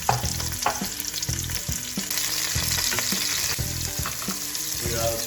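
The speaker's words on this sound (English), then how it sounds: "We're going to add all the vegetables, the garlics, the onions and the carrots all together." Garlic, onions and carrots hitting hot oil for pumpkin soup, a dense steady sizzle with repeated scraping stirs of a utensil in the pan, close up.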